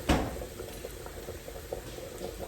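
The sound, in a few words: water poured into hot cast iron pan, boiling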